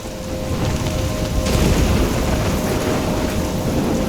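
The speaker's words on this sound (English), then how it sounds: "I'm trapped in a storm?" A thunderstorm in Life is Strange: heavy, steady rain pours with a deep rumble of thunder swelling midway, loud and continuous with no voices.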